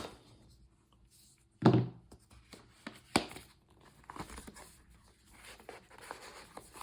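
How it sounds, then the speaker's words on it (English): A blade cutting through packaging tape on the box of a rebound magnetic keyboard case gives a sharp, close scrape near the start, followed by a scatter of quieter crinkles, taps and handling noises. "Nope, we have to cut through some tape."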